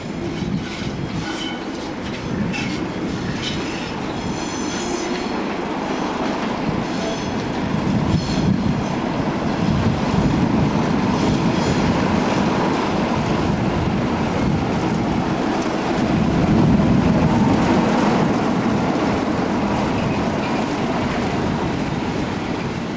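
A Class 33 Crompton diesel locomotive rumbles steadily close by as it runs into a platform, wagons rolling and wheels clattering over track joints, a heavy continuous drone with no talking.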